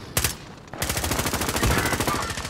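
Rapid video game gunfire, a sharp shot followed by a dense burst of automatic fire that rattles on loudly and closely for the remaining seconds.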